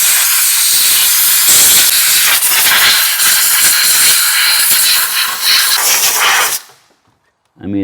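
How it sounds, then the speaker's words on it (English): A compressed air blower with a long tip blasts debris out of the engine bay of a 2012 VW Tiguan 2.0L TSI, a loud continuous hiss for about six and a half seconds that then cuts off, followed by brief faint sounds. "you definitely need a decent air blower with a long tip on it"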